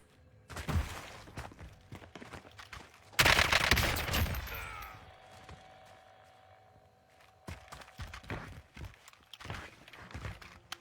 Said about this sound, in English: He was shooting at someone.